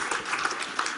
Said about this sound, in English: will you join me in thanking our closing panel very much, and a round of applause also for the signature of this Memorandum of Understanding